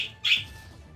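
A bird in the video game Wizard of Legend lets out one short, sharp squawk over low game background sound, with no voices.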